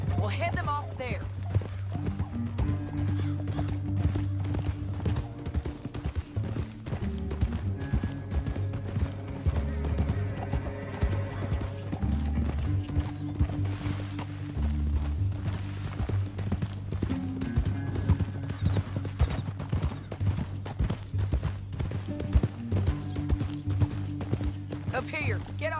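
Horses trotting across terrain in the video game Red Dead Redemption 2, steady rhythmic clip-clop of hooves with an occasional whinny, running continuously beneath music and people talking.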